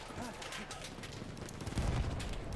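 Battlefield 1 match audio of SMG 08 submachine gun fire: a busy mix of quick shots and distant battle noise, with a heavier burst of firing near the end, and faint voices underneath.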